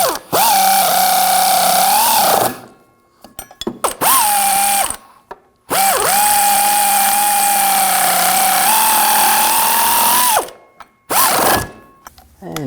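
A power tool runs the bolts down on the rear driveshaft couplers of a 2007–2013 BMW 328i with a 3.0L inline-six: loud whirring bursts with a ratcheting rattle, three long runs and a few short blips separated by brief silences.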